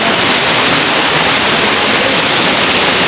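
A hidden waterfall roars in a steady, loud, unbroken wash of rushing water that never lets up, close by and with no voices heard over it.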